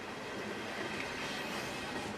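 CSX freight train Q130 with containers rolls past near and loud, a steady broadband rumble of wheels on rail with no talk over it.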